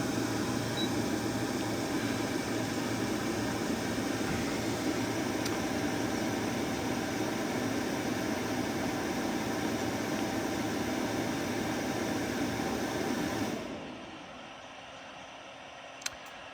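An electric cook plate running at its medium setting off a power inverter gives a steady, loud electrical hum and buzz with a fan-like hiss for about 13 seconds, then cuts out abruptly to quiet, leaving a faint click near the end.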